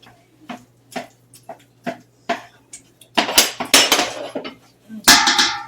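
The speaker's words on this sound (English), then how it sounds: "I will cut up the onion and the carrots" Knife chopping onion and carrots on a cutting board in a home kitchen, a series of sharp, close taps in an irregular rhythm that turn faster and denser toward the end.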